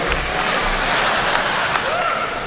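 Applause from a Telugu diaspora audience at a gathering in Dallas, a steady broad patter of many hands held at an even level for a couple of seconds, with a low voice underneath.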